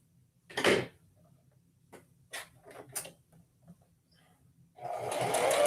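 A sewing machine stitches slippery fabric, starting with a short burst, then a few brief clicks and taps, and ending in a steadier run of stitching that grows louder near the close.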